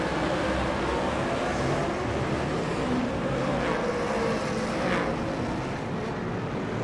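World 240s race cars roar together on a restart at Paradise Valley Speedway, a dense, steady wall of engine noise that holds loud and even throughout with no quiet gaps.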